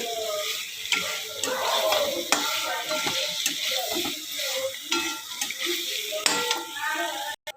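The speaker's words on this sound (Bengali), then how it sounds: "এই আলুগুলোকে এইভাবে মশলার সাথে একসাথে মিশিয়ে আমি এটাকে এবার ভালো করে কষিয়ে একটু জল দিয়ে দেবো" Whole potatoes coated in spices are stirred and sautéed in a hot pan for a Bengali fish curry, with steady sizzling and repeated scraping clinks of the spoon throughout, close and fairly loud.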